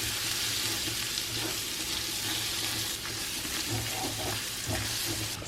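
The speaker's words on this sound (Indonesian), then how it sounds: "Kita tumis bumbunya" Spice paste with galangal sautés in a pan for a rawon beef soup, a steady close sizzle with faint stirring scrapes and a low hum underneath, no voices.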